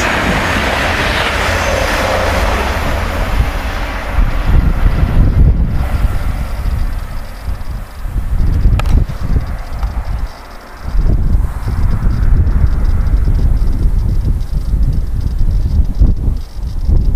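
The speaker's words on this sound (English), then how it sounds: "Trans-Pennine Express 185119 and 185127 passing on the Manchester Airport service." Two Trans-Pennine Express Class 185 diesel units rush past a footpath level crossing near Colton Junction on a Manchester Airport service. A loud, broad engine and rail roar builds and stays heavy throughout, with wind buffeting the microphone.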